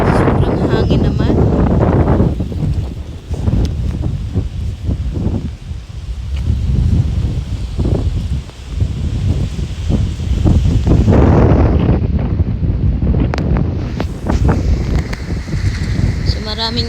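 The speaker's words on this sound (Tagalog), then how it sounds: "Sobrang hangin naman." Strong wind buffets the microphone in loud, rumbling gusts that stay constant throughout, with faint rustling underneath, at a fishing spot in Flatt's, Bermuda.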